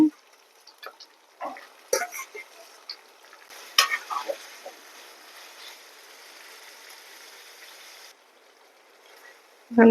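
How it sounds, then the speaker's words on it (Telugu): Cleaned, salted raw prawns dropped into a pan of fried ginger-garlic paste, giving quick bursts of sizzling and stirring clatter that settle into a soft, steady frying hiss. "ఇప్పుడు రొయ్యలు వేసేస్తున్నాను క్లీన్ చేసి ఉప్పేసి కడిగి పెట్టానండి"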